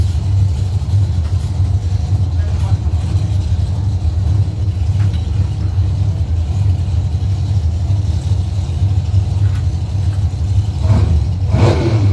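A 540 cubic inch supercharged drag racing engine at a doorslammer drag race rumbles loudly and steadily, idling and revving in a deep, continuous roar.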